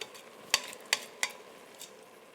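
A spoon stirs spinach puree into sauteed rice in a pan, making a few soft scraping strokes at a steady rhythm over a faint sizzle.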